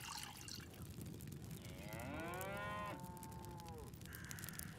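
A single long moo from a cow in the farm-life video game Farmer's Life, swelling and then falling away, set against a steady background of soft trickling ambience.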